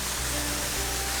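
Tom Branch Falls on the Deep Creek Trail, a steady, loud broadband roar of falling water, constant and close with no voices.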